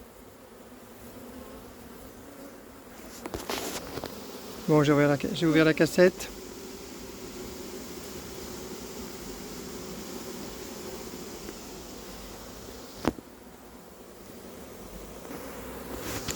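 Honeybees at the Crosne apiary buzz as they are freed from an opened queen cage during work on a colony, a continuous close drone that runs beneath a man's brief spoken remarks.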